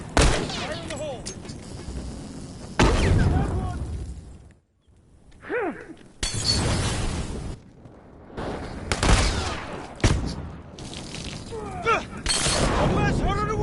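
Loud bursts of gunfire and explosive blasts, including a grenade going off, in The Last of Us video game, heavy broadband impacts broken by short quiet gaps, with voices calling out between the blasts.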